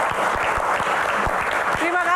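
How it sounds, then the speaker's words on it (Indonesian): An audience at a film Q&A session applauds, with steady clapping spread across the whole stretch and a few sharper individual claps standing out. "Tepuk tangan."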